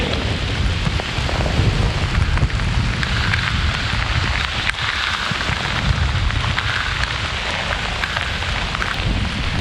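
Heavy rain pours down in a dense, continuous roar, loud and unbroken throughout, with no voices.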